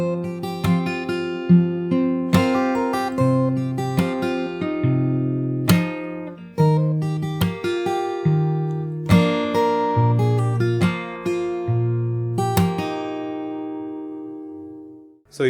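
A solo fingerstyle guitar plays a bridge, with picked arpeggiated chords over open bass notes and each phrase ringing before the next strum, intimate and clear with no talking.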